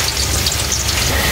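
Onions fry in hot oil for a kofta dish, making a steady, close sizzle that hisses evenly throughout the short stretch with no speech.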